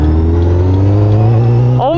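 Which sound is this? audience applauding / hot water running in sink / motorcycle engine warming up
motorcycle engine warming up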